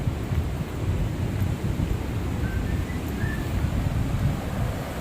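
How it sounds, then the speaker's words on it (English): A steady roar from a huge waterfall along the Appalachian Trail, broad and constant, mixed with heavy low buffeting of wind on the microphone. "there's a huge waterfall over this side."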